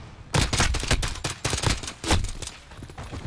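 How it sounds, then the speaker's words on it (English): Rapid pistol fire in a Call of Duty 2v2 Gunfight match, a fast burst of roughly a dozen loud, sharp shots in quick irregular succession, close and punchy with no voices over it. "That was just a lot of missed pistol shots there"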